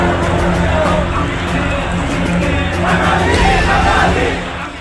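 Dense roar of a huge crowd of Hindus marching through the streets of Bangladesh in protest against violence, a continuous loud babble of many voices with swelling shouts and cries throughout.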